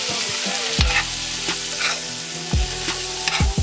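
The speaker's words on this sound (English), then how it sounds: "Gotta listen out for the sizzle to tell you when it's ready." Asparagus sizzles steadily in a hot pan over medium heat with lemon, butter and garlic, broken by several sharp clanks and scrapes of a utensil stirring, close up with no talking.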